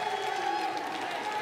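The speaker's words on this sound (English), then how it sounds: "This Philadelphia crowd is hyped for this New York squad." A Philadelphia crowd at a tied basketball game heading into overtime under NBA rules roars in a steady, dense wash of cheering and shouting that holds at an even level from start to end.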